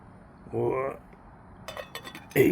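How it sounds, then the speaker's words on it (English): Dishes being washed at a hot wild campsite: a short scrape of a pot, then a quick run of bright cutlery clinks and a final louder clatter of pans, close by and with no talk. "To clean the dishes with."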